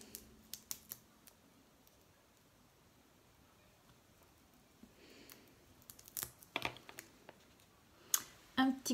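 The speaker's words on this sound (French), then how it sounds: "Un petit coup de ciseau là." Scissors snip through card for a shaker card craft, a few sharp quiet clicks early on and a denser cluster of snips and rustles near the end, close up, with no talking.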